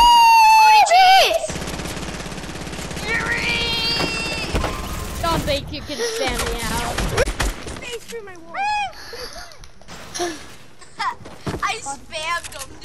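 Rapid Fortnite gunfire in bursts during a multiplayer match, loud and close, with excited player voices talking over the shooting throughout.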